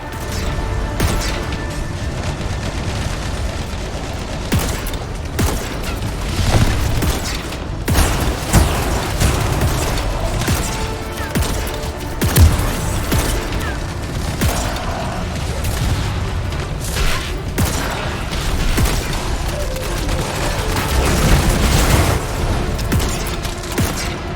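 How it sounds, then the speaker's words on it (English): Crystals explode in the video game Anthem amid a dense, continuous wash of game noise, with repeated booming bursts and mechanical clatter throughout and no clear talk. "The crystals are exploding."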